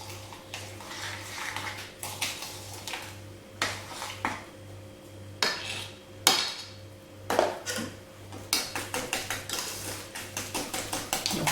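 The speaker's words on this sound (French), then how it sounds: "on mélange bien avec le fouet jusqu'à ce que ça fasse un mélange mousseux" A whisk beats egg yolks, sugar and vanilla seeds in a bowl for crème brûlée, bursts of rhythmic metallic tapping and scraping that speed into a quick clatter toward the end, with no talking.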